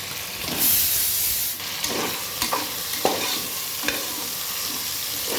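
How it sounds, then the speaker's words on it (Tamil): Tomatoes sauté in a pan while homemade veg biryani is cooked: a steady, close hiss of frying with a few scraping stirs, and a brief louder burst of sizzle near the start. "டொமேட்டோஸ் நல்லா வதங்கணும். அதுவும் தக்காளி நல்லா வதங்கிடுத்து."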